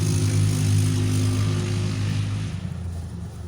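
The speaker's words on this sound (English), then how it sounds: "My neighbors on their four-wheeler or a three-wheeler riding down the street." A neighbor's four-wheeler or three-wheeler riding down a residential street, a steady droning engine hum that holds strong then eases off as it moves away near the end, heard alone without talk.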